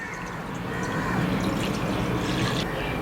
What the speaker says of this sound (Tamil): இதில் ஒரு 2 கிளாஸ் அளவுக்கு தண்ணி சேர்த்துக்கலாம்